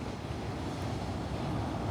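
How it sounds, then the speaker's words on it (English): Ocean waves rolling in at a beach campsite right beside an RV, a steady, dense wash of surf noise with wind, continuous and fairly loud with no distinct breaks. "just listen to the sound of the ocean."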